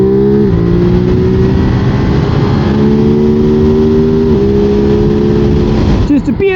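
A Ducati motorcycle engine roars loudly and close on a country road, holding a steady droning pitch with slight shifts as the rider goes along, with wind rush throughout and a voice talking over it.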